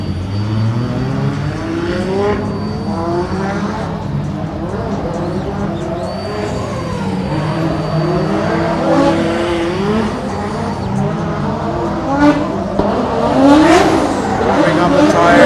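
Drift cars warming their tires at a Drift Masters night practice session in Germany: engines revving and swooping up and down in pitch, tires squealing, layered over continuous commentary.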